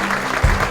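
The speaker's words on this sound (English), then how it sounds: "a big round of applause for them as well" An audience at a library event claps for teachers in a short, steady burst of applause, with a low thump partway through.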